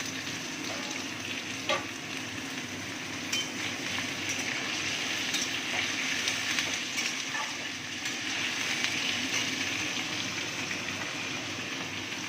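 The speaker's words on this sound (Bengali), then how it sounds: "এবারে একটু আলুটাকে আমি ভালো করে ভাজা ভাজা করব।" Cut potatoes fry in a pan with a pinch of asafoetida, giving a continuous close sizzle with faint stirring scrapes throughout, without any talking.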